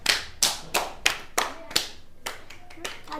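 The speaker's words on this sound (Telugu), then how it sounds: "క్లాప్స్." Bursts of hand clapping from a small group during an Ugadi party game, eight or so short separate rounds of claps about half a second apart, fairly close and lively.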